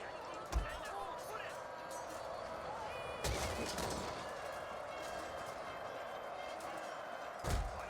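Ashigaru troops fire matchlock guns in Shogun 2: Total War, three separate muffled booms spaced apart over a faint, steady battlefield hum, quiet and distant.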